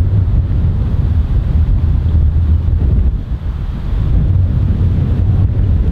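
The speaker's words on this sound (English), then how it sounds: "that's dead into the wind, really strong wind" Strong wind blasts across a golf course, roaring steadily into the microphone as loud low-frequency buffeting, easing briefly midway before resuming at full force, with no voices.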